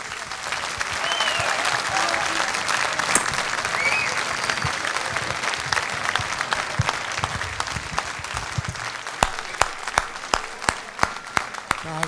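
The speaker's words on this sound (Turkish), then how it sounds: "Harika, alkışlar mıyız harika." A studio audience applauds on a Turkish television talk show: a sustained wash of many hands clapping, with a few sharp, close single claps standing out near the end.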